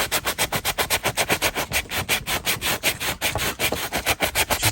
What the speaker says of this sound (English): I've also got a sanding block and just gave this a bit of a rub just to help